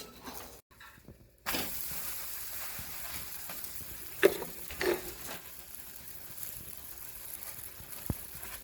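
A cheese garlic paratha roasting in butter on a pan gives a steady close sizzle throughout, broken by a few soft knocks and scrapes, with no talking.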